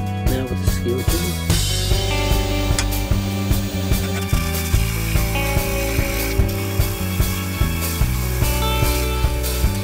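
A wooden rolling pin spins on a lathe while a skew chisel cleans up the surface, giving a loud, close, rhythmic knocking and grinding over a steady motor drone.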